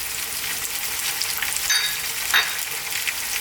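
Onions and garlic ginger paste frying in oil for a potato and peas curry, a dense, bright sizzle with a couple of brief stirring knocks, close and without voices.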